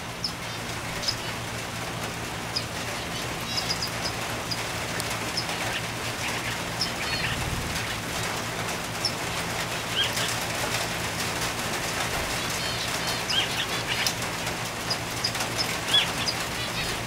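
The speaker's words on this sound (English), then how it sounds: "starting to drizzle a little bit today." Steady soft hiss of light rain drizzling on an outdoor finch aviary, a continuous even patter with faint scattered ticks and a low hum underneath.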